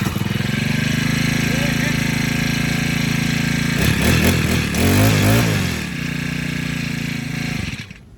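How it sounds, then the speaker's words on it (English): A cheap grass cutter's small two-stroke engine restarts after warming up and settles into a loud, steady buzzing idle, then revs roughly in the middle before returning to its even drone and cutting off near the end. "I just want to see how easy it is to restart now that it's warmed up a little bit."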